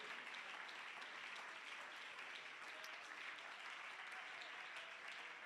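A worship congregation applauds, a steady wash of clapping filling the room at a low, distant level with no distinct voices standing out.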